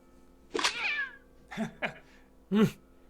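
Cats meow in a film scene around a house, three separate drawn-out, wavering meows with short gaps, close and fairly clear over a quiet background.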